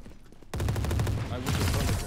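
Ares machine gun in Valorant firing a sustained rapid burst that starts abruptly after a short quiet lead-in, loud and close with dense, rattling shots.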